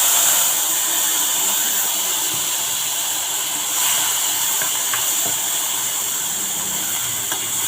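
Chopped onions sizzle loudly and steadily in hot oil left from frying fish, a continuous close hiss with a few faint pops and clinks.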